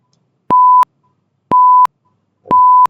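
A computer alarm set in a code editor beeps three times, each a steady electronic tone about a third of a second long, repeating once per second, loud and clean with no voices.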